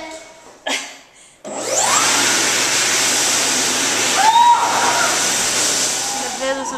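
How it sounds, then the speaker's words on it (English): Electric hand dryer at a Grand Teton National Park visitor center, switching on after a brief pause and blasting a loud, steady roaring hiss that holds to the end, with voices chattering near it. "We like this cool hand dryer."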